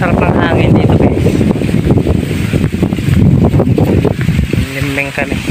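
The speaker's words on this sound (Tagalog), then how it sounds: "Ay, sarap ng hangin dito guys." Wind gusts blow steadily across an open rice field during harvest, a loud, constant rush buffeting the microphone, with people talking underneath.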